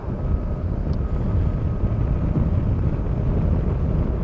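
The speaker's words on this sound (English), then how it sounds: "the wind noise is horrendous" Constant roaring wind rush buffeting a microphone inside a motorcycle helmet on a BMW R850R, loud and unbroken throughout, with a low rumble underneath and no voices.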